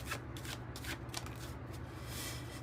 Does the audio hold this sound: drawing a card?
yes